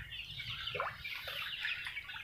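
Forty-day-old joper chickens in a flooded coop, with scattered clucks and short calls over a constant background wash, fairly faint and without any talking.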